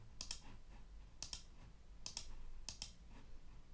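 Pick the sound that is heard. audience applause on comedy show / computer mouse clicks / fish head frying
computer mouse clicks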